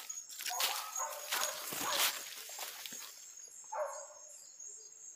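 A pack of hunting dogs on an armadillo hunt, with bursts of barking and yelping near the listener, then a quieter stretch and a later bark, while insects chirp steadily in the background.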